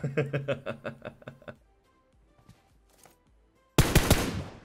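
Automatic gunfire in the video game PUBG rattles off in a rapid burst of shots, then after a brief quiet lull a second loud, close volley erupts.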